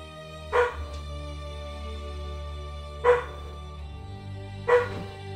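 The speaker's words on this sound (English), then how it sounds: "the one you're hearing is actually my dog" A dog gives three booming barks spaced a couple of seconds apart, heard indoors over the steady hum and music of a Witcher 2 game playing in the background.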